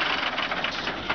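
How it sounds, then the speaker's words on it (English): A truck engine runs at a hot idle with a steady broadband rumble and hiss, an even, unbroken running sound with no voices. "with the engine sitting here at a hot idle, it has absolutely no blow-by"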